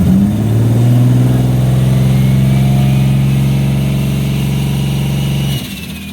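A Toyota Supra MK4 with a 76mm turbo and TH400 transmission holds a loud, steady rev against the foot brake, a deep sustained engine drone that drops off abruptly near the end, heard close and alone.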